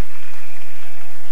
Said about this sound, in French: Est-ce qu'on peut acclamer sa présence? Acclamons sa présence.